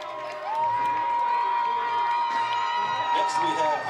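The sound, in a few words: crowd applauding and cheering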